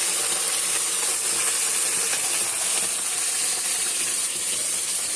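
Ground gravy paste is poured into a hot pan of sautéed ingredients for crab gravy, producing a loud, continuous hiss and sizzle right up close.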